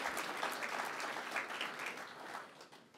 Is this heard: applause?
yes